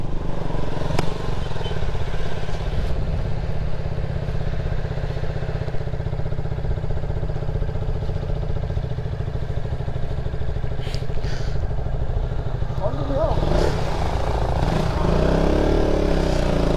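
A KTM Duke 200 motorcycle runs continuously on a mountain ride near Manang village, its engine a loud, steady drone with some rattling and clatter toward the end.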